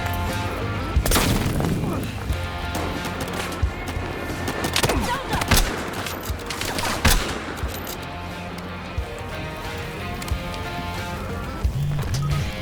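Weapon fire in the Battlefield Hardline video game, a run of sharp gunshot bursts at irregular intervals over a steady mix of background game noise, with brief speech-like sounds mixed in.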